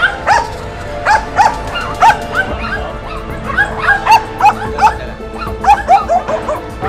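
A Phu Quoc dog being vaccinated lets out repeated sharp yips, barks and whimpers in quick irregular bursts, close and loud, with faint background voices.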